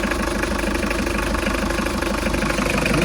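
A loud, steady diesel truck engine from 1996 idles close by with a rough, rhythmic low rumble and constant vibration, no talking.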